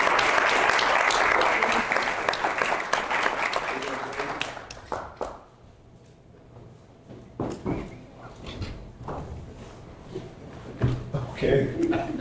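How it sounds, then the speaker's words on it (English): Village board meeting audience applauding police officers: a burst of clapping that fades within about five seconds, followed by quieter room noise with scattered knocks and voices. "Let's give them all a round of applause."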